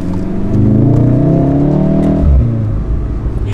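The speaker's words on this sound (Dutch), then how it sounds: "ik hoor nog een klappertje daar." A chiptuned car engine revs from inside the vehicle, a loud, steady droning roar that rises and then drops, with a brief exhaust pop near the end.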